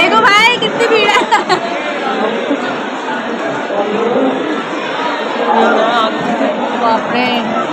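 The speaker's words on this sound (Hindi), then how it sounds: "देखो भाई कितनी भीड़ है।" Dense chatter of a large crowd at a Vrindavan temple dedicated to Radha Rani, many overlapping voices filling the space continuously, with a few sharper sounds near the start.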